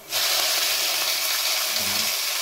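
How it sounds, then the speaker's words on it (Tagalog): Chicken drops into hot olive oil in a pan and sizzles loudly and steadily from the first moment, a continuous close frying hiss with a faint low knock near the end. "Mainit na yung kawali natin guys ha. Kaya ako lang na ilagay na ano, chicken."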